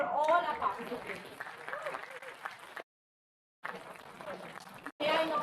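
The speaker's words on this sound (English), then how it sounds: "Great round of applause for all our participants." Audience applause at a valedictory ceremony for a moot court competition, moderately loud clapping that cuts out briefly twice, with a voice talking over it.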